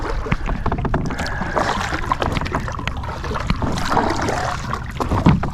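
Wind blowing on the water during a spring kayak fishing trip, loud gusty rumble in the microphone mixed with sloshing water and knocks against the kayak hull, no speech.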